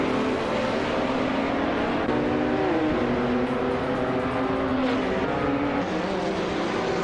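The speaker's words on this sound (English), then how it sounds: "Ingrid is driving a 2007 seat. Leon TDI." A video-game racing engine of a 2007 Seat Leon TDI, a continuous loud droning hum with pitch shifting up and down as it accelerates and changes gear, heard up close and alone.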